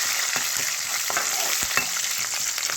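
Finely chopped green chilies fry in oil with lentils, a dense, even sizzle close by with a few soft stirring clicks and scrapes, no talking.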